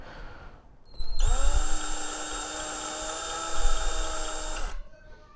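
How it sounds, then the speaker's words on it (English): A power drill whirs steadily at a low, constant speed in a guitar's screw hole for several seconds, spinning up and then winding down, close and loud with no talking. "I can just have my drill on really low"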